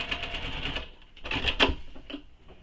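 A sewing machine back-stitches over a bag strap anchor, with rapid close mechanical needle bursts, a brief pause, then a few more short stitching runs.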